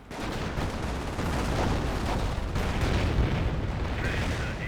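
Artillery shells bursting on a Company of Heroes 1 battlefield: a dense, continuous roar of heavy booms and gunfire rumbling loudly and evenly throughout.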